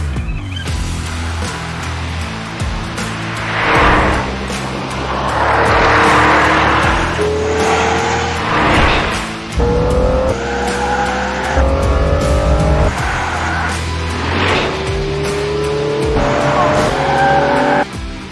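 An Aston Martin DBX707 performance SUV driven hard on a test track, engine roaring and revving steadily with rising gear pulls, tires squealing and skidding through corners, loud and close throughout.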